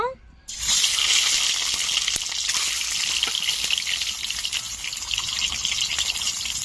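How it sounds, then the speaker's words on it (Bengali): Eggs hitting hot oil in a pan burst into a loud, continuous sizzle that stays strong and close throughout, following a brief quieter moment at the very start. "ডিমটা ভালো করে ভেজে নেব"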